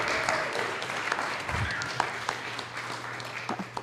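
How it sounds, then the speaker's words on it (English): Congregation applauding at a Sunday church gathering, a steady wash of claps and scattered cheers that stays fairly even across the moment, with a low hum running underneath. "Let's give her a big round of applause."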